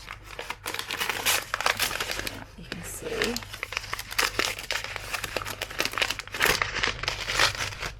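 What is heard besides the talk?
wrapped package of 300 GSM paper being opened, crinkling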